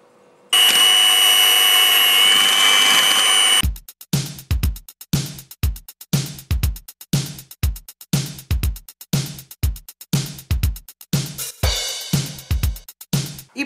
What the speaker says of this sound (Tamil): we're also going to add the caster sugar in there and beat with an electric beater